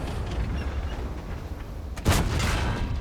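A tank's ammo rack explodes in the World of Tanks video game, a sharp, loud blast at about two seconds that stands out over a steady rumble of battle noise.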